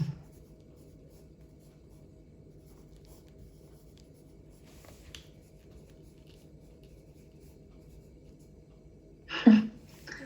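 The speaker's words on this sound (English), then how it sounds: "which I'm going to write, is equal to 96" An equation is written by hand with faint, steady scratching over a low background hum, ending in a louder brief tap or scrape near the end.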